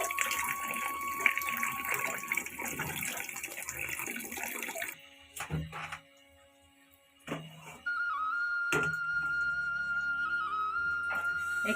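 Running tap water pours into a pot of washed potatoes, a loud steady rush that cuts off briefly, followed by a few clunks and a renewed stream with a faint whistling tone from the faucet.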